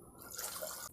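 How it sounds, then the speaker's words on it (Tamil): Water pours from a vessel into a pressure cooker holding pieces of yam, a short, quiet splashing trickle lasting about a second before cutting off. "கொஞ்சமாக தண்ணி ஊற்றிக்கலாங்க."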